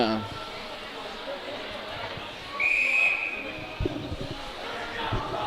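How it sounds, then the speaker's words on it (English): A sharp referee whistle blast for icing at a high school ice hockey game cuts through steady arena crowd noise, with commentary-like talk and scattered thuds around it. "That's why this whistle was blown."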